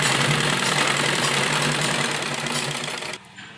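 A sewing machine runs steadily, stitching a pressing seam along the strip of a heavy printed kurti, a continuous close whir that stops abruptly near the end, leaving a quieter tail.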